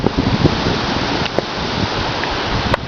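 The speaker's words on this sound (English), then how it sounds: "It's raining." Steady rain falls during a big storm, a dense continuous hiss with a few sharper drop impacts, close by and with no talking.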